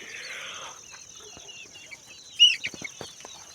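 Farmyard chickens let out in the open as evening falls: a few short clucks and squawks come close together near the end, over a quiet outdoor background.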